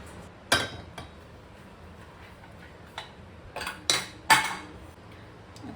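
A large pressure cooker clanks and clinks as it is set down and handled in a home kitchen, with sharp metallic knocks scattered in a quiet room and no talking.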